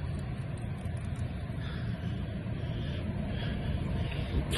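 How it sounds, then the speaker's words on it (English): A large Massey Ferguson tractor hauling machinery rumbles past outdoors, a continuous low engine drone with wind noise and no clear peak. "Here's a massive Fergie tractor that's"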